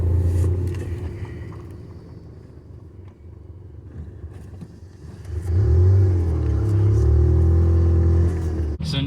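A Ford Ranger with a manual gearbox shifting into second gear: a steady engine rumble that softens briefly as the clutch goes in, then swells loud and close as throttle is added.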